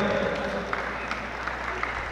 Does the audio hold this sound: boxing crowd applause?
yes